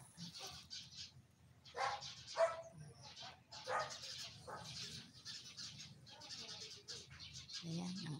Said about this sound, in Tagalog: ang mga ibon ay nag-aawitan